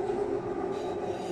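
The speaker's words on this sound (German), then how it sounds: "hier fährt immer die S-Bahn vorbei." An S-Bahn commuter train rumbles past at a steady, moderately loud level, a continuous low rolling drone with no talk over it.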